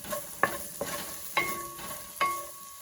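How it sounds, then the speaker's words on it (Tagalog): Onions being stirred in a pan while sautéing for Ilocano pinakbet, with a few distinct scraping stir strokes over a low, steady sizzle, close and moderately loud, no talking. "Sunod nating igisa ang sibuyas. Haluin natin."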